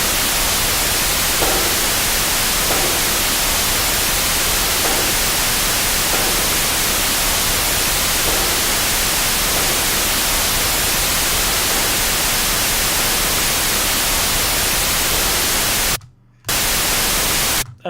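Pink noise plays as a steady, loud, unbroken hiss used to level a music mix, continuing evenly for many seconds before a brief dropout near the end.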